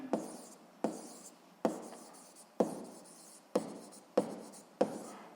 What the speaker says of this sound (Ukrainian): Отже, записуємо тоді обчислення, можна і написати.